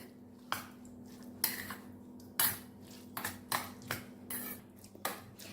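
A spoon clinks and scrapes in a bowl while ketchup and pizza sauce are mixed together, a run of sharp, close taps in an irregular rhythm with soft squelching between strikes, with no talk.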